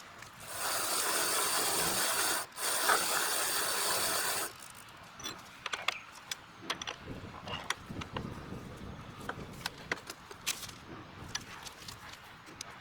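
The reverse-threaded left pedal of a SMRFS Defender e-bike is being tightened; a steady hiss gives way to faint, quick mechanical clicks and rubbing taps from the tool turning, all quiet and close.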